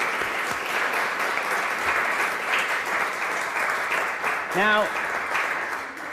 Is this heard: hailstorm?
no